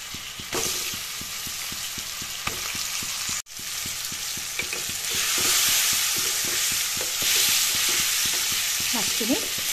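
Fish with cauliflower and tomato stirred in a hot frying pan: a steady sizzle carries regular, rhythmic spatula scrapes close by, with a brief pause partway through before the frying grows a little louder.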